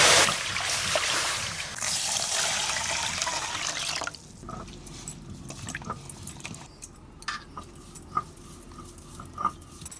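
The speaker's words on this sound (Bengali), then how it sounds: "এবার ঢেলে নিয়ে জল দিয়ে ধুয়ে নেব।" Mung dal being rinsed with water in a kitchen: a steady rush and splash of running water for about four seconds, then quieter, scattered drips and light clinks.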